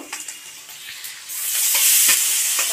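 Spices and water lily stalks frying in hot oil, brief stirring clicks at first, then a loud, steady sizzle that swells and holds close by.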